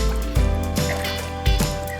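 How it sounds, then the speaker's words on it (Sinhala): Water is poured into a cup during children's water play, a close gurgling fill with the pitch rising as the cup fills, broken by a few sharper splashes. "පුතේ මේ කප් එකට වතුර පුරවලා මේ මාමයිත් එක්ක දාන්න"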